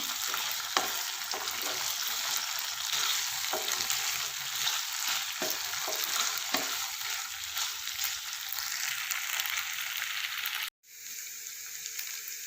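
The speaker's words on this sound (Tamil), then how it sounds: "சிக்கன் வந்து நல்லா ஃப்ரை ஆகிடுச்சு" Pieces of chicken fry in hot oil in a pan, giving a loud, steady sizzle with occasional crackles and stirring clicks that runs for most of the clip before cutting off abruptly near the end, with no talk.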